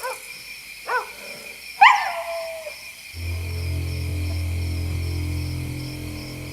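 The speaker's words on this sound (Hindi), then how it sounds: "डांग, इतना क्यों भौंक रहे हो?" A dog barks a few times, sharp and fairly close in a quiet night setting, then a low steady hum fills the rest of the stretch.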